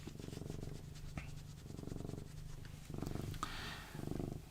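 A cat purrs up close in a steady series of rumbling bursts that rise and fall with each breath, with no talking over it.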